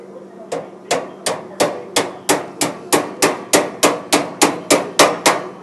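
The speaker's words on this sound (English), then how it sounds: "tap home with your hammer" A hammer taps a cabinet joining clip into place, about fifteen sharp, evenly spaced strikes in a steady rhythm, close and loud.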